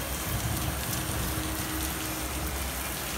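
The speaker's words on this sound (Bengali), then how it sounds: "প্রচণ্ড বৃষ্টি হচ্ছে।" Heavy rain pours steadily outside a stopped Darjeeling Mail train at Bolpur station, a dense continuous hiss with no voices.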